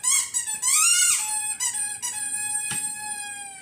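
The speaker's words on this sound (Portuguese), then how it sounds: "Que brinquedo legal, gente. Faz esse barulho, né?" A squeaky pet toy gives a run of loud, high, wavering squeals, a long drawn-out one followed by several shorter squeaks close to the microphone, with no talking.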